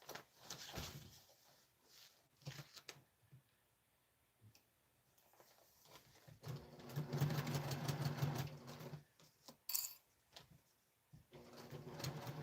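Domestic sewing machine stitching in bursts during a toy-making session, motor whirring in several runs of a few seconds each with pauses and small clicks between, close and fairly loud.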